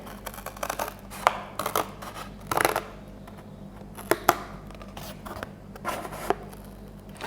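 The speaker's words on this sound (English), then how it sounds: "let's see if some scissors will cut it" Scissors snipping through cardboard for a gingerbread house in scattered, uneven cuts, with quiet rustling and handling between snips, close and fairly soft.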